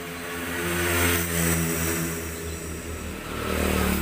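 A Tiger Evo motorcycle engine with a rough clutch runs steadily close by, a continuous loud droning rumble with layered vibration tones that swells slightly toward the end.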